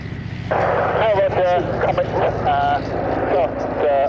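Bristol Scout biplane with a rotary engine flying at a race-day air show, a steady, loud buzzing drone under someone speaking over a public-address system.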